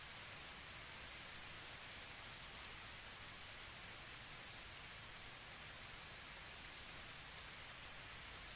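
Steady rain hissing down in a train simulator video game, a dense, even wash of drops that holds without change from start to finish, with no voices.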